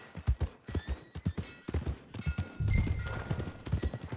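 Horse hooves clip-clop steadily on the ground in Red Dead Redemption 2, a close, loud and even rhythm of hoofbeats with some ambient noise.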